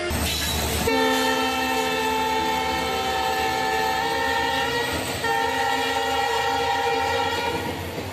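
A train approaching at high speed on the tracks, a loud sustained horn blast with steady rumbling rail noise underneath, close and continuous for several seconds.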